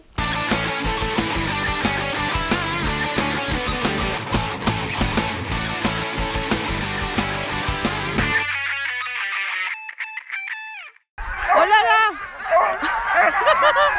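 Dogs yip and whine close by in short, high, wavering cries before setting off on a canicross hike, following a long stretch of loud, busy noise.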